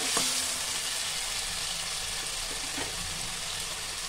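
Tomato, onion, salt and turmeric frying in a pan give a steady, close, hissing sizzle that runs unbroken throughout, with a faint stir or two.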